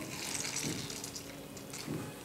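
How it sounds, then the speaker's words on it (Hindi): Plain water poured while making phulki chaat in a home kitchen, a soft continuous trickle and splash that runs steadily for a couple of seconds at close range with no talking. "तो मैंने इसलिए नॉर्मल पानी डाला है"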